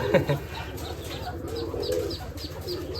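Racing pigeons coo in low, continuous murmurs with occasional higher chirps and a brief flutter, heard close at moderate volume without clear speech.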